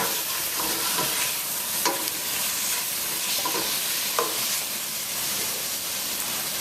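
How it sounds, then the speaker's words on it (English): Curry with tomato sizzling steadily in a hot pan, with a few scraping stirs of a utensil across the bottom, close and fairly loud with no talking. "So I'm just going to give this a quick stir."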